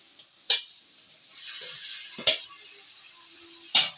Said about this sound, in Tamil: இப்போ வந்து இந்த தக்காளி போட்டுக்கலாம்